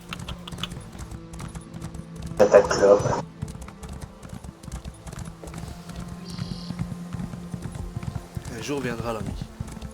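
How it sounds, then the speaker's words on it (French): Galloping horse hooves in Cyrodiil, a video game battle zone, clopping in a steady rhythm beneath near-constant talk, with a brief louder burst of other game noise partway through. "De temps en temps quand c'est mort, je prends le cheval. Allez, galope saloperie."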